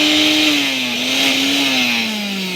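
An electric motor freshly fitted inside its body housing runs loudly after being switched on, a continuous whining hum whose pitch wavers slightly before sagging a little near the end.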